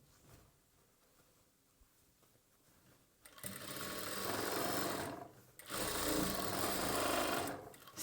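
A sewing machine stitches the folded edge of a churidar bottom, starting after a quiet pause and running in two long, loud, steady bursts separated by a short stop.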